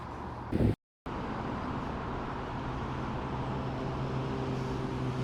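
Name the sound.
road traffic noise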